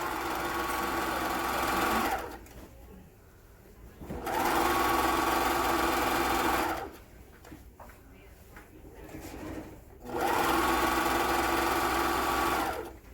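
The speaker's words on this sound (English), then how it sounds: "I love the sound of your serger too." A serger sewing machine runs in three loud, smooth bursts of rapid stitching as pillowcase seams are sewn, with short quieter pauses between runs.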